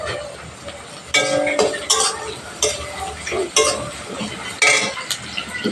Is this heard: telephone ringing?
no